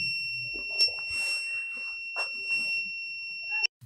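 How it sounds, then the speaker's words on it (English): A steady high-pitched electronic buzzer tone from an MQ-2 LPG gas detector sounds throughout, with soft clicks and handling noises underneath, then cuts off abruptly. "then the buzzer will turn on"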